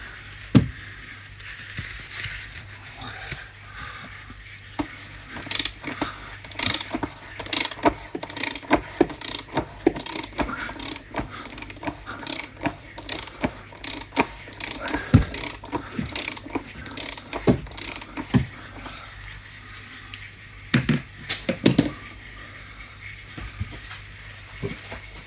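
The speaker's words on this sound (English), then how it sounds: "The filter housing is loosened by a 32mm" Ratchet with a 32mm socket loosening the oil filter housing on an Audi A6 (C7), rapid clicking pawl strokes in repeated bursts with short pauses, close and clear.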